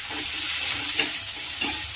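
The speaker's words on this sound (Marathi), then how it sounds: "अशा प्रकारे व्यवस्थित छान असं परतून घ्यायचंय।" Cumin, fennel, green chilli pieces, ginger, garlic and chopped curry leaves sautéing in hot oil with mustard seeds, a steady close sizzle and crackle with soft stirring scrapes throughout.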